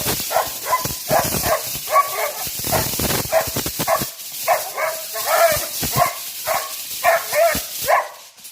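A mixed-breed dog barks repeatedly and excitedly at close range, sharp loud yaps coming in quick irregular bursts for several seconds.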